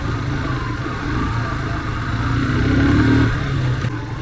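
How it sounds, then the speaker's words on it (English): Motorcycle engine labouring uphill in first and second gear on an off-road forest climb near Diggi, Goa; a steady, close, throaty drone that swells for a moment before easing back. "We are only riding in first and second gear because it's a climb throughout."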